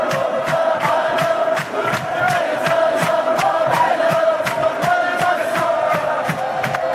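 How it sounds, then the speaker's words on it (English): An AI-generated crowd, made with MMAudio, cheers and claps in a busy celebration, with sharp hand claps ringing out in a quick irregular rhythm over a continuous roar of voices. "The cheers, the crowd, the clapping of hands, everything was generated, and it was synced with the video"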